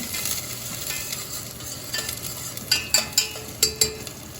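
Onions sizzle steadily in a pan for a tomato sauce, with a continuous frying hiss and a few sharp scrapes of a stirring utensil near the end, close and without talk.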